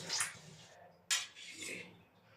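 A metal spoon is dropped into a dish of aloo chana curry in a home kitchen, giving two close, bright clinks a second apart followed by a soft scrape.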